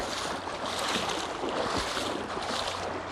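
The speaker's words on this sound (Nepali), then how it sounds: "फोर्समै रहेछ पानी त" Fast, forceful river current rushing in a jungle river, deep and cold, heard up close as a steady broadband roar and splash with no break and no voices.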